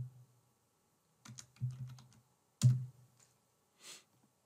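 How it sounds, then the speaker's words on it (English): Soft clicks of computer keys in short bursts, a few quick taps separated by pauses, close and quiet in an otherwise silent room. "I am typing the name as Airtable bot"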